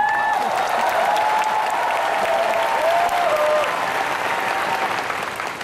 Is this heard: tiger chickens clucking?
no